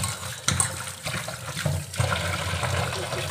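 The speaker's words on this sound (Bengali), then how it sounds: "মাছটা আমি এখন ধুয়ে নেব।" Water runs steadily from a tap while fish is washed in a kitchen, a continuous moderate splashing rush with small clatters.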